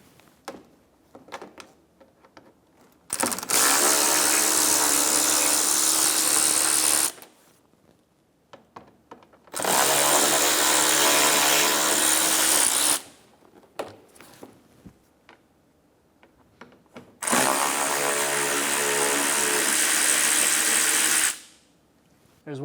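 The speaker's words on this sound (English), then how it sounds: "Remove the 3 T20 screws in the inner fender liner." A power tool drives out T20 screws from the inner front fender liner of a 2012-2020 Chevrolet Sonic in three loud, close bursts of a few seconds each, with quiet handling noises in the pauses.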